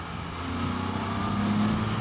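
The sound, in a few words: Can-Am Spyder F3-S exhaust accelerating in 4th gear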